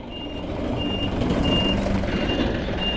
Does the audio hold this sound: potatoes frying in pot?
no